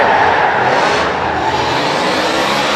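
A Mustang RTR drift car initiates a drift at Long Beach during a tandem drift competition. A loud, continuous engine howl mixes with hissing tire noise at close range.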